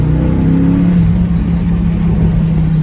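1995 Mustang Cobra engine, running with a newly installed mass airflow sensor, revs and pulls hard under acceleration, a loud, close, steady droning roar with a rising tone over a few seconds.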